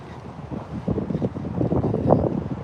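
Wind rumbles against the microphone on a dock by a town boat ramp, a soft, continuous low buffeting that swells slightly toward the end, with no clear speech.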